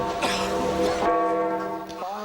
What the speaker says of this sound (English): many broke down in tears as the Vatican's funeral bell was rung.